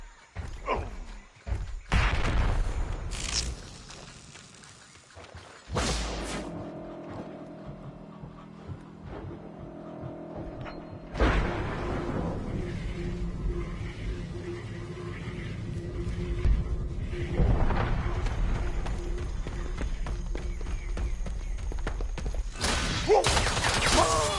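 A frag grenade going off in Predator: Hunting Grounds, heavy booming blasts and rumbling impacts among busy game action, with some background talk.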